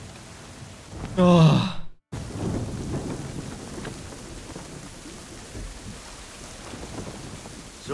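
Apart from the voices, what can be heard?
thunderstorm with rain at sea, from video game Assassin's Creed 3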